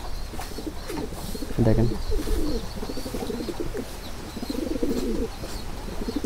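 Domestic pigeons coo in a low, rolling, repeated pattern at a home loft, fairly close and steady throughout, with a brief spoken word near the start.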